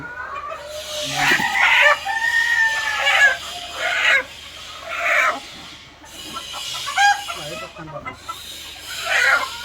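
Egyptian Fayoumi chickens and a rooster clucking and crowing close by, with several loud, drawn-out calls and bursts of cackling spread across the stretch.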